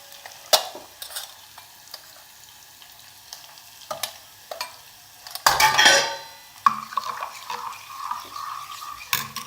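A phodni tempering sizzles in a pan for buttermilk kadhi. A loud hiss of frying builds midway, along with spoon taps and clinks of utensils against the pan.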